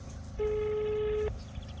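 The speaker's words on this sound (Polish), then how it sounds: "Jest sygnał, aby hodowca odebrał." A single steady telephone ringback tone sounds for about a second, faint and clear, over quiet background noise while a call to a pigeon breeder is placed.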